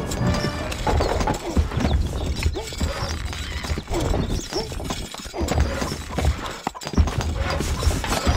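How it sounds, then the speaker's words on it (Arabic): Horse hooves clip-clop amid a Stronghold Crusader battle, mixed with clattering impacts and crashes in a busy, loud, continuous din. "الحصان"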